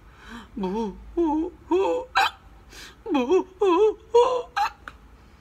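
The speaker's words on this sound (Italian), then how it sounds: "il, singhiozzo non se ne andrà mai più." A wolf character in a children's story is voiced with whimpering, hiccup-broken cries, a string of rising and falling vocal bursts close to the microphone, with no other sounds around them.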